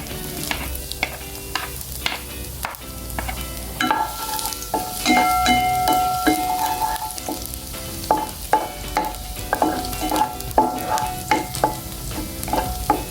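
Garlic sautés in oil in a pan, a steady close sizzle with rhythmic stirring and scraping strokes of a spatula, and no voices.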